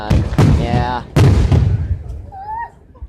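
Fireworks bursting over a downtown area: two loud, sharp booms with crackling tails in the first second and a half, followed by fainter distant pops, with voices talking nearby through the display.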